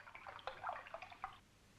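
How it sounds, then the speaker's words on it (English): Water from a jug of colored water pouring into a glass, a short, faint trickling splash lasting about a second and a half, then silence. "Pour the water into the glass"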